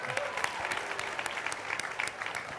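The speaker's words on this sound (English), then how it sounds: "Big round of applause for Mr. 305." Audience applause for Pitbull at a fireside chat, a lively, steady clapping from a sizable crowd with distinct sharp claps popping out, fairly close and even in level.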